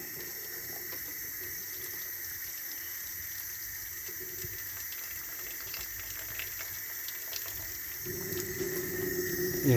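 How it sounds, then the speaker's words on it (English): A kitchen tap runs in a steady trickle while fruit cups are rinsed, a soft continuous water hiss with small splashes, growing a little fuller near the end. "just leave the water running just a little bit."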